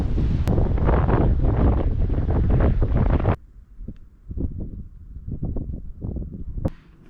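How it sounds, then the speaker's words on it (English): Strong gusting wind at a campsite buffeting the microphone, a heavy roaring blast that suddenly cuts off, then lighter intermittent gusts rumbling in bursts. "It's so windy."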